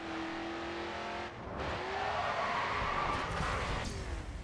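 A car drifting in the racing video game Grid 2, its engine revving steadily and climbing in pitch with tyre noise through the slide, loud and continuous with no talk.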